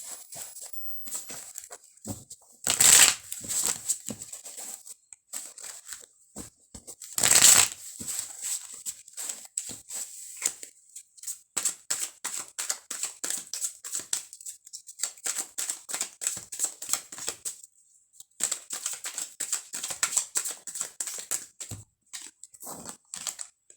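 Tarot cards are shuffled by hand in a quiet room, with a long run of crisp, rapid riffling and clicking bursts. Two louder rustling flurries come early, then steady shuffling continues through to the end.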